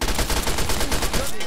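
Rapid gunfire in Fallout 3, a dense run of loud repeated shots fired in quick succession for over a second, close and harsh, with no talk.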